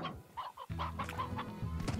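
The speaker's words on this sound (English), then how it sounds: "there's lots of chickens and stuff there" Chickens cluck in a farm pen in the video game Slime Rancher, several short, close clucks in quick irregular succession with a steady game hum underneath.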